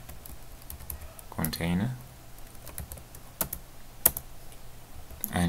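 A few scattered, sharp keystrokes on a computer keyboard while typing HTML div code for a Bootstrap 3 web page layout, spaced apart with a brief spoken word early on.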